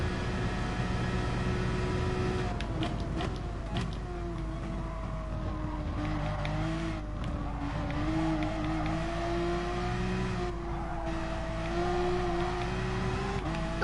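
Race car engine from Gran Turismo Sport, a GR3 class car lapping the Spa circuit, holding a steady droning tone with rising and falling pitch through gear changes, loud and continuous throughout.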